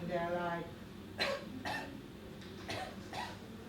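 A voice imitates a weak, feeble cough: a few soft, breathy coughing bursts spaced irregularly after a stretch of speech.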